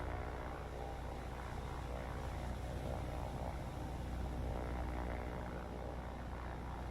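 Martlet fighter plane engine from the naval combat game War on the Sea, a steady propeller drone circling in a torpedo-plane dogfight, loud and continuous with a dense low rumble and no speech.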